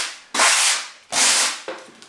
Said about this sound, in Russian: У меня вот такой идет брусок для шлифования.